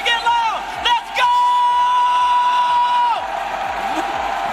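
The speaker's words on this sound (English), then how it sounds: "The crowd is going wild." A large arena crowd at an RLCS Rocket League esports playoff event cheers, whoops and yells loudly, with sustained roaring and a long held shout standing out, dense and close throughout.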